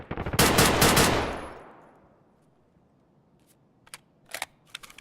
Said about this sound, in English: I thought I was shooting there for a second. No, I was being shot at.